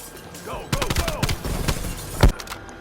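Rapid gunfire and bursts of shots from Call of Duty Black Ops Cold War on Veteran campaign difficulty, dense and loud, with a sharp heavier blast near the end and a voice talking over the shooting.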